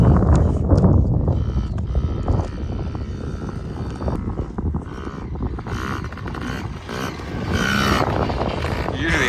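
A modified 50cc Pee-wee dirt bike rips past on a test ride near a cabin, its small engine buzzing and revving continuously, sometimes closer and louder, with people talking at times.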